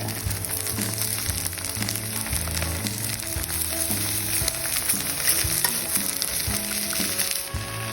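Food being stir-fried in a hot pan with fermented tofu and dipping sauce, steady sizzling with repeated scraping strokes of a spatula, close and even throughout.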